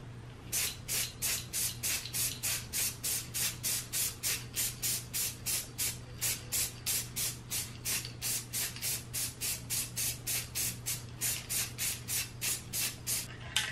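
Rhythmic bursts from a spray can misting paint onto a 2017 Kia Forte body panel during a rebuild, about two dozen short hisses in steady succession over a low constant hum, close and fairly loud, with no talking.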